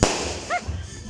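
A single New Year firecracker bursts with a sharp, close pop at the very start, followed by brief faint crackle and background noise.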